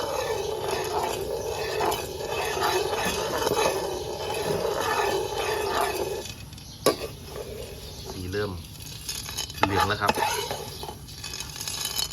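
Coffee beans roast over low heat in a pan, stirred with a steady scraping rattle and soft sizzle up close, broken by a few sharp clinks and a dog barking nearby.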